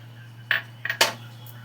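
Food going into a kadai with mustard oil produces a few sharp metallic clinks and scrapes in quick succession, close and distinct over a steady low background hum.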